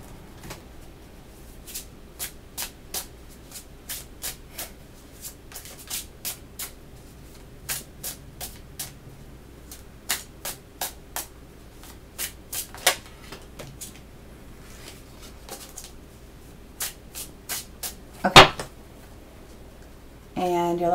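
Tarot cards are shuffled with quiet, crisp flicks and riffles in irregular bursts, faint and close, with a louder snap near the end.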